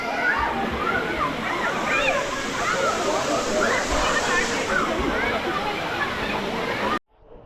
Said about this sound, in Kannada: ಇದೇ ದಿಡುಪೆಯ ಎರ್ಮಾಯಿ ಫಾಲ್ಸ್.